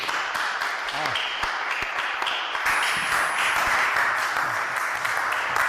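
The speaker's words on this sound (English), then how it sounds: "I don't know why you're clapping" An audience in a chapel applauds steadily throughout, a dense wash of many hands clapping at once, fairly close and sustained without pause.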